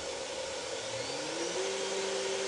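A CNC router spindle spinning up to 12,000 RPM above a spoilboard, a steady loud whine that climbs slightly in pitch and holds as a constant mechanical drone.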